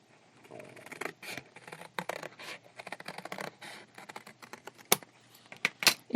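Paper being cut with scissors along a drawn line while making a photo Rolodex, a close series of crisp snips and scratchy slices with short pauses between them.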